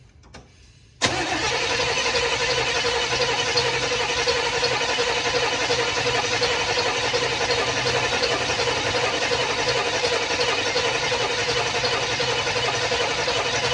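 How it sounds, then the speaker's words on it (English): Electric fuel pump on a 1977 El Camino running after a click, a loud steady whirring hum that holds without change for over twelve seconds, close to the microphone with no talk. "We're going to see if this pump will actually pull fuel from the tank."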